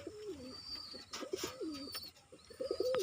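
Close pigeon cooing: a few low, throaty rolling coos in quick succession, with a faint chirp or two in the background.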